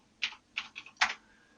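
Four quick, light keystrokes on a computer keyboard, close and crisp against a quiet room, with no talking.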